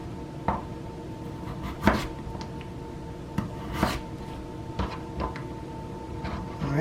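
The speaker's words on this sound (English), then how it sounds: "Then you're going to want to make that 1/8 of an inch cut." A kitchen knife making thin eighth-inch julienne cuts on a cutting board: soft, irregular taps and knocks spaced a second or so apart, close and fairly quiet, with no talk.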